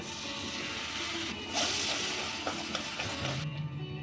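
Tomato paste with spices frying in a pan for ghugni, a dense close sizzle with stirring scrapes that briefly swells louder midway, then eases as stirring continues.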